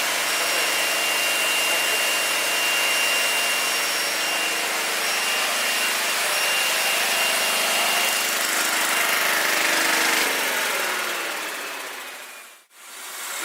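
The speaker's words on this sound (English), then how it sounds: "now this generator have no brush" A brushless free-energy generator runs with a steady whirring hum and faint tonal whine, continuous and fairly loud, then cuts off abruptly near the end with a brief dip before resuming.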